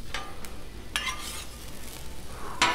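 Ham sizzling on a Blackstone griddle, a close, steady frying hiss with a few sharp scraping clicks from a spatula on the flat-top, alone with no talking.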